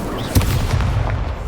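Incendio fire spell cast in the Hogwarts Legacy video game, a single sharp booming burst followed by dense, roaring combat noise with further muffled thumps, loud and close throughout.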